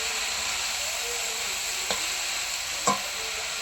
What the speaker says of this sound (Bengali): এবারে তো খুন্তি দিয়ে শাকগুলো নাড়াচাড়া করে দেবো।